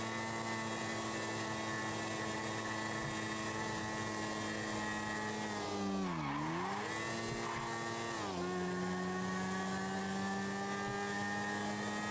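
A motorbike ridden in a video game gives a constant engine whine that dips sharply in pitch about halfway through, as if braking into a skid, then settles back to a steady drone.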